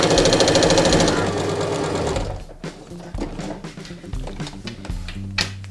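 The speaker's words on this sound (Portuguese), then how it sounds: "A gente vai começar sempre o pezinho da máquina. Nós vamos começar aqui na metade, ok? E vamos costurar." A sewing machine stitches a fabric mask, running loud and fast for about two seconds, then slowing into uneven stitching bursts and mechanical clatter.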